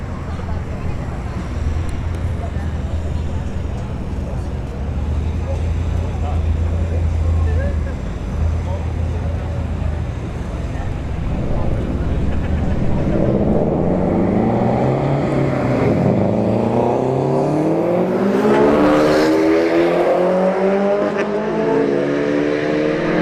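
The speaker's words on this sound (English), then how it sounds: "we got the Fiesta ST in the left lane, the Blabai STI in the right lane" A Ford Fiesta ST and a Subaru STI drag racing at a street drag strip, engines droning loudly, then rising in a sweeping rev as the cars launch and accelerate away.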